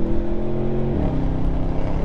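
A 2021 Audi RS6 with aftermarket tuning accelerates hard, its engine note loud and close, then dips in pitch at a gear change about halfway through before pulling on.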